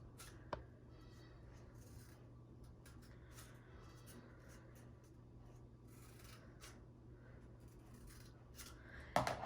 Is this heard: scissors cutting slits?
yes